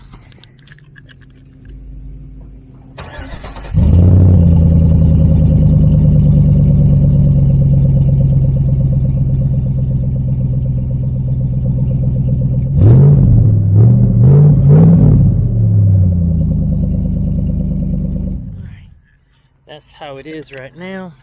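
A 2004 Chevy Tahoe engine with its old muffler starts and idles loud and close, then revs in a few quick bursts before shutting off, with someone speaking briefly at the end.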